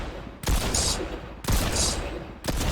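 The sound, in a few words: Mammoth pistol gunfire in Fortnite video game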